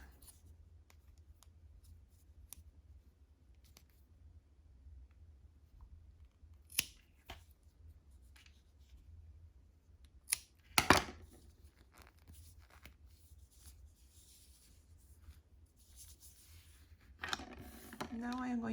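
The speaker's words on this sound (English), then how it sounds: "And now I am going to cut the yarn." Scissors cut crochet yarn for a keychain in a quiet room, making a few soft, scattered snips and one louder double snip near the middle. Faint handling noise follows, and a voice begins at the end.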